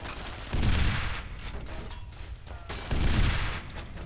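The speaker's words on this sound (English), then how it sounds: "We're just gonna shoot this thing in the face." Gunfire from the first-person shooter F.E.A.R., two loud bursts of shooting roughly three seconds apart over a steady background of game ambience.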